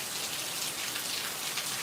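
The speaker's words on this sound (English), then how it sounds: "rainy day" Steady rain falls on a garden in an even, dense patter of raindrops that continues without a break. It is moderately loud, with no voices.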